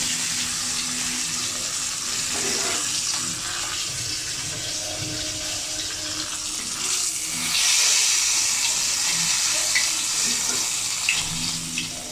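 Sarpunti fish frying in a pan, a continuous close sizzle with occasional stirring, swelling louder and more splashy past the midpoint, no voices.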